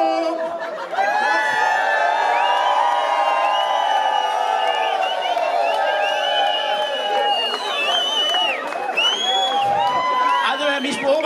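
An outdoor crowd at a Mosel wine festival in Merl cheers, whoops and shouts loudly and steadily, with a dense, continuous roar of voices and some children's cries.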